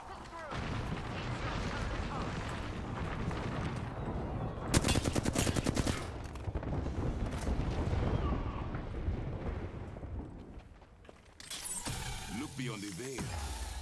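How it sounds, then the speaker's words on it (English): Bursts of gunfire in a ranked online shooter match, rapid volleys and machine-gun-like rattles up close among other game effects, with a player talking over much of it. "They're shooting at me"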